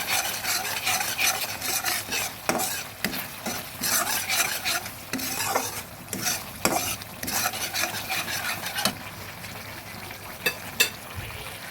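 Spatula scraping and stirring spiny gourd (kakrol) in mustard-poppy seed paste curry in a pan, a steady run of close, gritty strokes with faint sizzling beneath, no voices.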